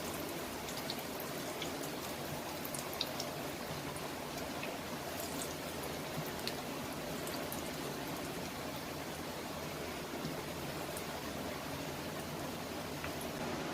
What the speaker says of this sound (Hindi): मीडियम लो फ्लेम पे मैंने फ्राई करेंगे ताकि अंदर तक पक जाए